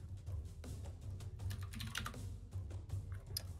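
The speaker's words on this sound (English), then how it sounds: "Someone is typing." Rapid keystrokes clatter on a computer keyboard, heard through an online voice call during a tabletop role-playing session, irregular clicks over a low hum.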